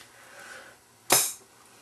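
A homemade blow dart gun made from a pen fires once: a single sharp, loud pop close by, preceded by a faint breathy whoosh.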